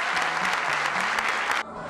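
A crowd gives a standing ovation in Kosovo, dense sustained clapping filling the space steadily before cutting off abruptly near the end.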